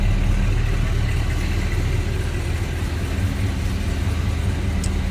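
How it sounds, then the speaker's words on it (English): A 1968 Plymouth GTX with its standard 440 V8 idles close by, giving a steady, deep, loud rumble that holds even throughout with no talking. "A little rumble coming out of that 440."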